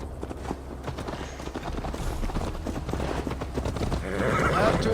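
Horse in Assassin's Creed Valhalla galloping with rapid, rhythmic clip-clop hoofbeats, close and loud, building toward the end with a whinny and a voice speaking over it.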